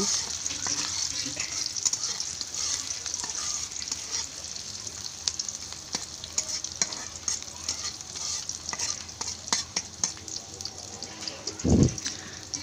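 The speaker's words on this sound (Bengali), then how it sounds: "এখানে পেঁয়াজ, এলাচ, দারচিনি দিয়ে পেঁয়াজটাকে ভালো করে ভেজে নেব।" Onion fries with cardamom and cinnamon in a pan, giving a continuous hiss with frequent stirring scrapes, close up and without talk, until a brief low thump near the end.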